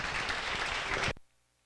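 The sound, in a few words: church congregation applause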